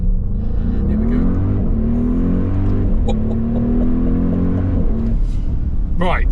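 A 640 hp Audi RS Q8 SUV with a sports exhaust accelerating hard on a public road, a loud, close engine drone climbing steadily through the gears with brief dips at each shift, then a sharp blip near the end.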